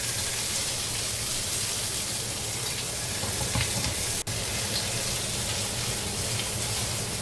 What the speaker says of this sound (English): We'll add in our asparagus, and we'll stir fry that.